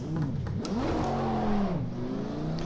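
GT3 race car engine in Project Cars 2, revving continuously through a lap with rising and falling pitch sweeps as gears shift, loud and close with no talk.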